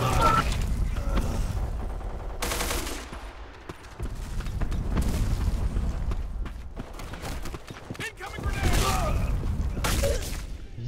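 Gunfire in the online shooter Black Squad cracks in rapid bursts and single shots, loud and near, mixed with footsteps and game noise while someone talks over it.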